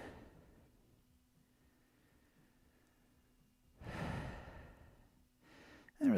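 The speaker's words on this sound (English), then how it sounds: "Take a couple breaths here, expanding into the body." Slow breathing while holding a yoga bridge pose: a long quiet stretch, then a fuller, close exhale that swells and fades, followed by a sharper breath at the end.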